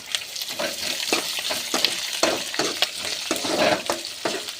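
Onions stir-frying in a pan for Tamil cabbage poriyal: steady close sizzle with repeated scraping stirs of the spatula at an irregular rhythm, no voices.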